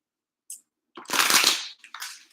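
A deck of cards is shuffled up close: a couple of quick ticks and then a dense, bright riffle lasting about a second, followed by a brief shorter flutter.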